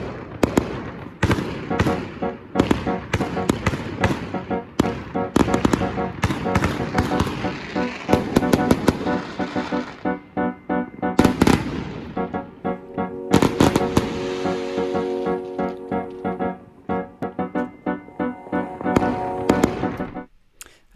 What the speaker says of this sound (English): 2021 beginning with a fireworks display.